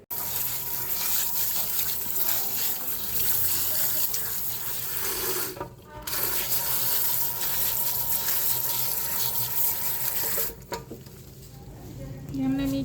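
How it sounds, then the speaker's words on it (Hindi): Running water rinsing dye out of hair during a balayage colour session, a steady close gushing stream with two brief pauses, and a voice speaking over it. "ये यहाँ से हम रिंस करना स्टार्ट करते हैं"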